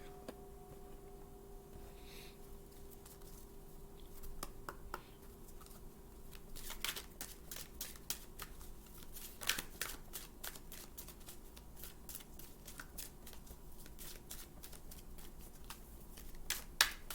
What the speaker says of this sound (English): Forgot to cut the deck.